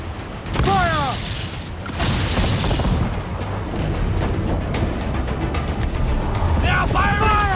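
Ship cannons fire in Assassin's Creed IV Black Flag, with deep booming volleys rumbling one into the next during a close-quarters naval battle. Loud shouting voices and chaotic battle noise sit over the blasts.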